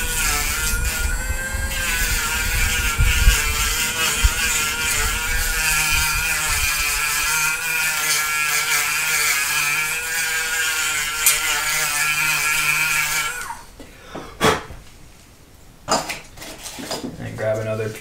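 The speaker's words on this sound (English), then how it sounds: "use the Dremel to sand it flat" A Dremel rotary tool sanding the inside edge of a leather wallet flat, a loud steady high whir with a continuous droning tone that cuts off near the end, followed by a few handling knocks.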